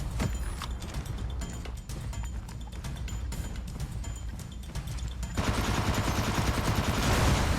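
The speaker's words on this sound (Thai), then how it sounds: "ยิงไปก่อนยิงก่อนยิงมั่วไปก่อน" Rapid bursts of gunfire in a battle-royale shooter during an airdrop ambush crackle continuously, growing denser and louder toward the end.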